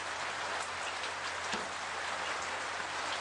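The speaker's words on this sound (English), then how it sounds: "Sounds like the rain is letting up." Steady rain falls during an early-morning safari drive at Djuma Game Reserve, a continuous even hiss of drops on surfaces with no voices.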